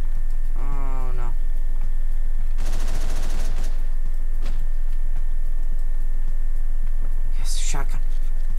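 Shotgun blasts in the top-down action game Hotline Miami, a few sharp bursts of gunfire among electronic game sounds, rapid clicking and a steady background tone, with a voice talking over it.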